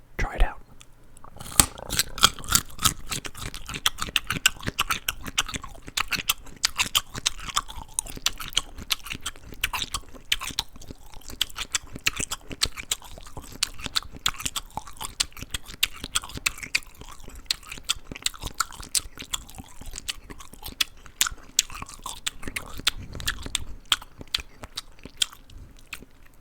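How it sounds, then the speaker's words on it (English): Close-up crunchy food being chewed and crunched for ASMR, a dense, continuous stream of crisp bites and chomps with soft mouth sounds and no talking. "some people really like when you are chewing, when you have that chewing and crunching and chomping."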